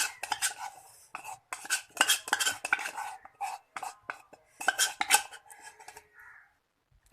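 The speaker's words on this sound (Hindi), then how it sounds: "अब हम इसको छन्नी की मदद से अच्छी तरह से छान लेंगे" A blended mixture for a homemade skin-whitening cream is strained through a kitchen sieve and pressed, giving intermittent clinks, scrapes and taps in short bursts with pauses between.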